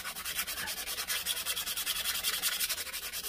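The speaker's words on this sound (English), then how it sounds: "sandpaper" Sandpaper is rubbed quickly back and forth on the metal body of a Stanley 4 1/2 hand plane, making a steady rhythmic rasping close up with no voices.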